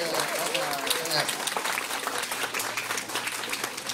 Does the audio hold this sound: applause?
yes